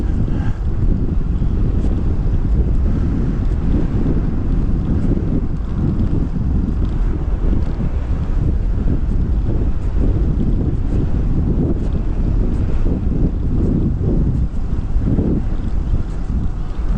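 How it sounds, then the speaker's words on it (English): A strong headwind roars and buffets against the microphone on a ride toward the Oak Island lighthouse, a loud, continuous low rumble throughout with no break. "And there's my headwind."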